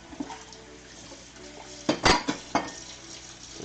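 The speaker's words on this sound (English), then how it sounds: "Now I just have to stir and wait" A spoon scrapes and clinks against a pot as moque choux is stirred, a few sharp knocks clustered near the end over a soft background hiss, with no speech.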